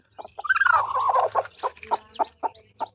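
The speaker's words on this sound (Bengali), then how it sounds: "আমাদের বাড়ির দেশি মুরগিতে বাচ্চা দিয়েছে" Domestic village hens with a freshly hatched brood give a run of close, loud clucks and warbling calls, a drawn-out rising-falling call followed by short repeated clucks at an uneven pace.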